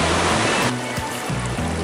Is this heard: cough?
no